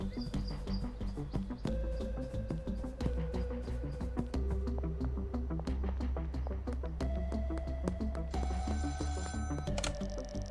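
Payphone ringing in the video game Schedule 1, a quiet repeating electronic ring over steady background game music.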